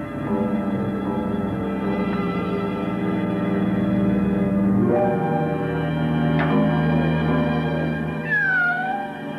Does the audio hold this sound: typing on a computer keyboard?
no